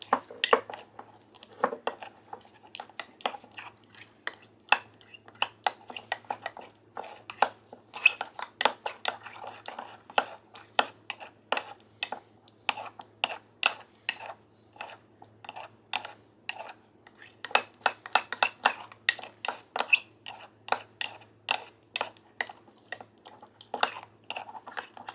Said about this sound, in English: just use my spoon and press any lumps against the side of the cup here